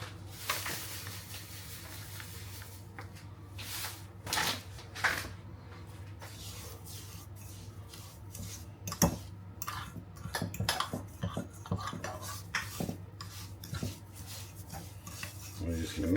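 A fork stirs and scrapes through sticky sugar infused with THC and RSO, producing soft rasping, clinking strokes in an irregular rhythm close by, with a steady low hum running underneath.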